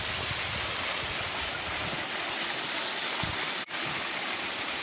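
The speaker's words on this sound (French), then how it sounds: "Regardez la cascade." A waterfall near castle ruins on a road trip between Germany and the Czech Republic gives a continuous, even rush of falling water, loud and steady with no breaks apart from a brief dip near the end.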